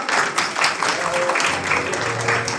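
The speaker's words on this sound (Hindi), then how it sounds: "तो इनके लिए जोरदार तालियां।" Audience applause at a Shrimad Bhagavat Katha religious discourse gathering, a steady wash of clapping lasting the whole moment with faint voices mixed in.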